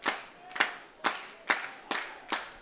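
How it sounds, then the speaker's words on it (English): Baseball fans at a ballpark clap their hands in six sharp, evenly spaced claps, fairly faint and without talk. "Fans clapping their hands here at the ballpark."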